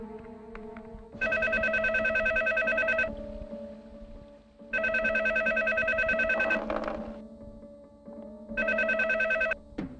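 A telephone rings unanswered in a Tamil movie scene, sounding in three long electronic trilling bursts separated by short pauses, clear and steady with no talk.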